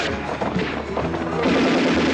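Gunfire from the Italian horror film Nightmare City, a dense clattering burst of shots mixed into the soundtrack, continuous and moderately loud.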